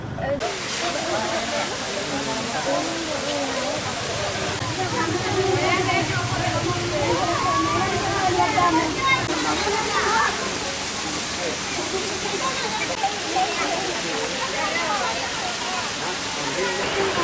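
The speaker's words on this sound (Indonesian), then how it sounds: "terutama karena ada air terjun" A waterfall at the Tapak Tuan tourist site gives off a steady, loud rushing hiss that runs through the whole stretch, and a person talks over it the entire time.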